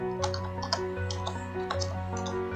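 Computer keyboard typing with quick irregular key clicks, close and fairly loud, running steadily over a faint background hum with no talk.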